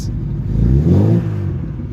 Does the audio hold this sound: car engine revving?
yes